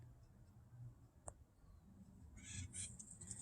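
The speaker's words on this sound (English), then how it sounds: "That's the acorn woodpecker." A distant acorn woodpecker gives a few faint squawking calls against quiet background noise, with a single sharp tick partway through.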